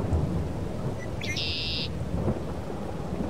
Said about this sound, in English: Man, it's raining for a while, ain't it?